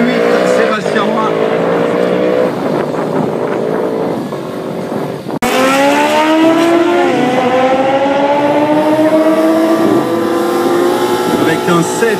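A 600 GSC racing motorcycle engine screams loud and close at a drag race, its pitch climbing through gears, briefly cutting out midway, then rising again under a commentator's voice.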